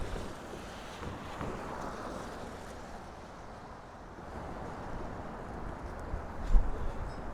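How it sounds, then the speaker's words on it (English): Wind gusts rumble and buffet against the microphone on a street in Sunset Park, Brooklyn, a constant low roar that swells and eases, with no one speaking. "Definitely very windy."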